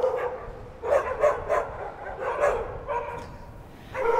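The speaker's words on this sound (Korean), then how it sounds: "언뜻 들어봐도 개 한두 마리가 짖는 소리가 아닙니다" Many dogs barking together inside a single house in a residential area of Gangseo-gu, Seoul, a chorus of repeated barks and yips in bursts, loud and fairly close, with no talk over it.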